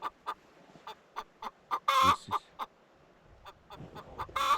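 Chickens cluck in short, irregularly spaced bursts, with one louder, squawkier call near the middle and another near the end, heard close and with no talking.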